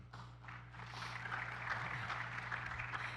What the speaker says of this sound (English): If I can also please welcome Mr. Wolfgang Marzin with a round of applause to the panel discussion